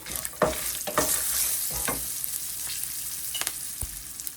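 Four dried red chillies fry in hot oil in a pan while a spoon stirs them, giving a soft steady sizzle broken by several sharp scraping clicks.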